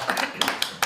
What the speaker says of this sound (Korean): 짝짝짝짝 박수.